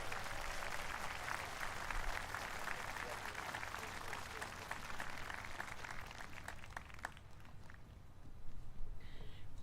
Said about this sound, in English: Please give Alpha Company a round of applause for their accomplishments.